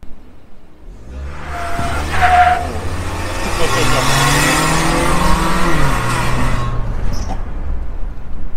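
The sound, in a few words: tuned Suzuki Jimny accelerating from standstill, traction control off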